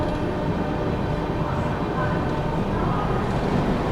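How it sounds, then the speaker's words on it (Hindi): Onboard the Vikramshila Express running through Prayagraj Junction without stopping: a dense, continuous rumble and clatter of the moving coaches, loud and steady throughout. "यहाँ पर अपनी ट्रेन जो है प्रयागराज जंक्शन को स्किप करने जा रही है"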